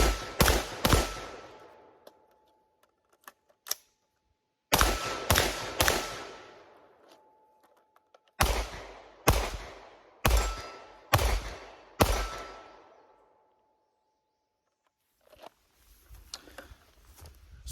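A Daniel Defense DDM4V7 AR rifle fires outdoors in sharp, loud shots, some spaced singly and others in quick clusters, each followed by a short echo and pauses in between.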